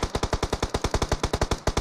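Rapid machine gun fire in PUBG on the Livik map, a steady burst of about twenty close, loud shots in even rhythm with no talk over it.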